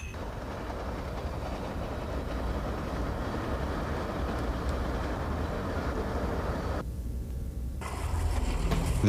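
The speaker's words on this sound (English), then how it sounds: "The train, which usually runs on these tracks, is a vintage model, restored for use on this short run." A restored vintage train on the historic Grand Canyon Railway between Williams and the Grand Canyon rumbles steadily and loudly throughout, with a brief dip and then a fuller, louder surge near the end.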